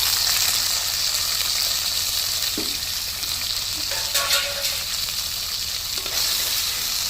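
Crushed small shallots frying in hot oil in a pan for chicken biryani, a constant close sizzle with occasional stirring scrapes and light clinks.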